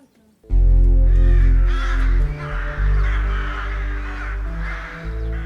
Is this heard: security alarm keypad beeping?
no